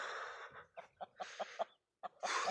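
Hens cluck in a short series of soft, separate calls at morning feeding, close by, with a brief pause before a louder, breathier call at the end.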